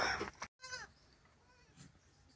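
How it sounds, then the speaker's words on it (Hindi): A male goat kept on a raised wooden platform on a farm near Sialkot bleats with a wavering cry after a brief pause, followed by quieter farm background and a faint second bleat. "ये जी बकरा आ गया"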